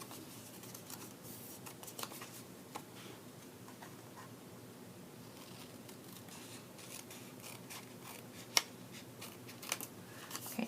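Scissors cutting black paper for Halloween french fry treat boxes make faint, close snips and crisp paper rustles in an irregular stream, with one sharper click partway through.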